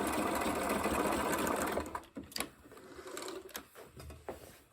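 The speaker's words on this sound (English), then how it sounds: "You can sew right on the edge here." A sewing machine runs steadily as it stitches along a raw fabric edge through two layers, a continuous whirring hum for about two seconds before slowing into short, stop-start bursts.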